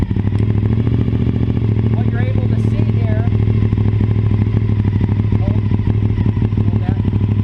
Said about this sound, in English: go ahead and fire up the motorcycle